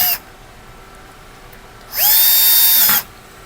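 A power drill drives screws into the metal track of a motorized smart curtain rail. It gives one close, steady whining burst of about a second, with a rising start and an abrupt stop, in an otherwise quiet room.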